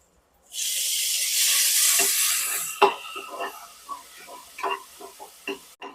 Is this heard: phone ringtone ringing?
no